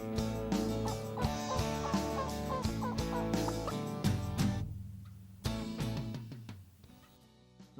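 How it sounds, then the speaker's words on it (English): Wild turkeys in Michigan spring woods gobble in repeated rattling bursts as hunters call to them, a clear run of calls that fades to quieter scattered notes before one final gobble. "We must have called at these turkeys for a good half hour."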